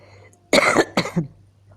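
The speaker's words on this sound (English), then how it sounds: "I have this dry throat and coughing a little bit" A single close, dry cough in two quick bursts, followed by silence.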